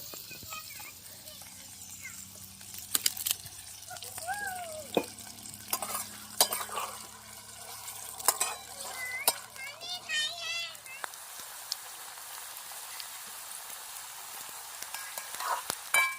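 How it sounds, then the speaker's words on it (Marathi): Oil sizzles as onion and chilli fry in a pan, with stirring scrapes and a voice in the background; the frying continues faintly after the talk fades. "कांदा आणि मिरची कढईमध्ये टाकली."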